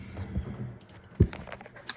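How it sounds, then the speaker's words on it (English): Typing on a clacky old wireless Dell keyboard, with a few scattered keystrokes and one sharper, louder clack near the middle, heard close and alone. "I'm using this really clacky kind of old Dell keyboard. Listen to this."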